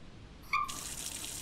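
A bathroom tap in the game Hollow Cocoon, set in a Japanese house, gives a short squeak and then a steady, quiet hiss of running water.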